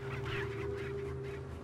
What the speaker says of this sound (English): That chicken is making a dog sound.